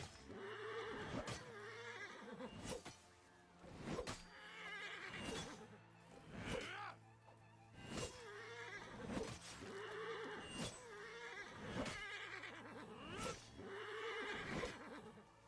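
Horses in the Assassin's Creed Origins video game neigh and whinny repeatedly, roughly a dozen loud, sharp calls spaced every second or so, with faint hoof clops beneath.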